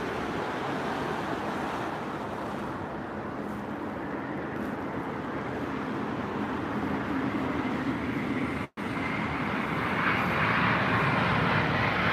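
An Air India airliner arriving from Delhi at London Heathrow roars steadily as it passes, a broad sustained engine rush with wind noise, loud and continuous, briefly cut by a dropout near the end.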